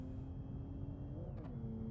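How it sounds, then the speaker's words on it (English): A car's turbo in BeamNG gives off a thin steady whistle over a continuous engine drone heard from inside the cabin, the pitch dipping briefly as the throttle changes. "There's a nice whistle from the turbo though."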